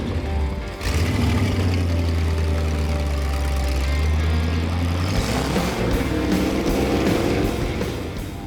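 Custom off-road rig with an odd exhaust and roll cage, its engine running steadily and loud from start to finish with a deep rumble, rising slightly in the later seconds as it rolls off.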